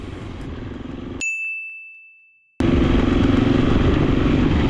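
A KTM 350 EXC-F motorcycle drones loudly along a road toward the Mount Batur volcano; the engine noise cuts out abruptly for over a second while a bright ding tone fades, then the engine roar returns at full strength.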